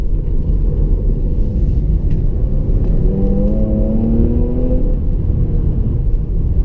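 A 2016 Jaguar XE S with its 250 kW supercharged V6 rumbles from inside the cabin, a steady low engine drone with a brief rising rasp as it revs, loud and continuous.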